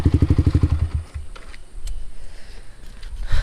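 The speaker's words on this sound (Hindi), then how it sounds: "जो भी नॉइस आ रहा है वो एक्रापोविक का है," A Yamaha motorcycle with an Akrapovic aftermarket exhaust idles close by, giving a rapid, even thumping pulse for about a second before the sound turns rougher and noisier.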